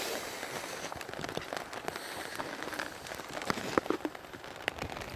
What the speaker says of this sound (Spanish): hay mucha lluvia y viento. El viento está muy fuerte